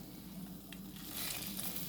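Patties pressed into a frying pan sizzle with a soft, steady crackling hiss, faint and continuous, with no talking.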